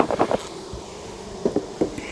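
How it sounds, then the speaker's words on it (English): Honey bees buzz in a steady, dense drone around an open hive during an inspection, close and continuous, with a few brief bursts of nearby talk. "Lots of bees down here."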